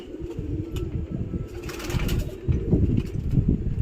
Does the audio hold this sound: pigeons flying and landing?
yes